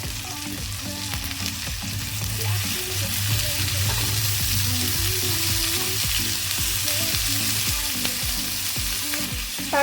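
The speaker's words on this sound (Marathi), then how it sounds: "आता आपल्याला टोमॅटो सुद्धा त्याच्यामध्ये परतून घ्यायचंय" Onion and tomato sauté in hot oil in a pan for a spicy sev bhaji, giving a steady loud sizzle and frying crackle with occasional stirring scrapes throughout, no voices.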